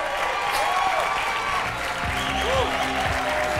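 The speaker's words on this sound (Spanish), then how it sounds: "quiero pedir un fuertísimo aplauso para Sara Serena, Juanjo Bona y Mar Pardo" An audience applauds loudly and continuously for contestants of a jota singing contest, a thick wash of clapping with a few voices rising faintly underneath.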